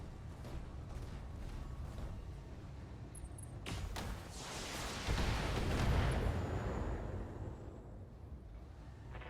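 Mech weapons firing in the BattleTech video game, a rumbling barrage with sharp impacts and a swelling explosive roar that peaks midway before easing off, heard alone.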